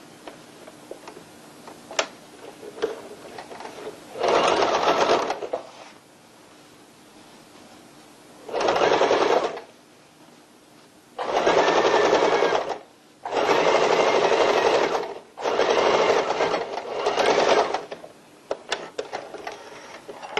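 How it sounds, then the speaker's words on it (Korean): A sewing machine stitches a folded hem on a tote bag in five bursts of rapid, whirring running, each a second or two long, separated by quiet pauses with light handling clicks and rustles. "1cm 접고 다시 접어서 박음질 하시면 됩니다."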